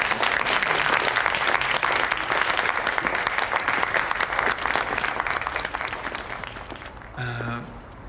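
Applause from an audience at a school award ceremony honouring a computer olympiad winner, dense clapping that begins loud and slowly thins out, followed by a brief voice at the end.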